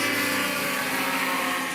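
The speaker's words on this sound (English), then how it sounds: "I don't think that thrust engine is on song" Racing hovercraft on a circuit with its thrust engine running rough and off song, a continuous loud, dense mechanical roar and whine that holds steady with no talk over it.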